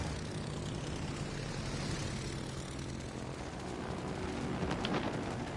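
Steady droning propeller-aircraft engines from carrier planes in the naval game World of Warships: Legends, a continuous broadband roar holding at an even level throughout with no speech.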